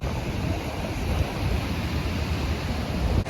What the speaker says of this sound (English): We are at Pacific Beach, closing out the day